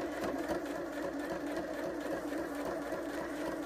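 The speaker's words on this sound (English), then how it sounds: "And now this machine, you'll see I'm going like kind of slow." A sewing machine stitching fabric at a slow, even speed, a continuous close mechanical whir with a fine rapid needle rhythm running steadily throughout.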